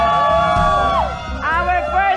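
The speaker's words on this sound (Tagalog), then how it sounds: "Sigawan naman dyan!" A crowd at a contest announcement shouts and cheers across most of the burst, with whoops and raised voices swelling twice over steady background noise.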